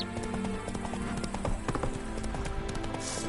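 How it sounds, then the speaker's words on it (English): Roach, a horse in a video game, spooks with rapid clip-clopping hooves and a whinny over a steady musical and ambient game score, heard clearly for a few seconds. "Spooking my horse."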